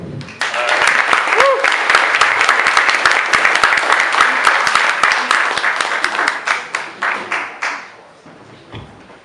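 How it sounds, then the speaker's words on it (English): A comedy club audience applauds a standup comedian onto the stage, loud sustained clapping with cheers that holds steady for several seconds, then thins out and fades toward the end. "Let's welcome Brian Graham"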